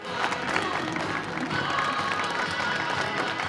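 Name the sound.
applause from the catwalk audience for Liz Davenport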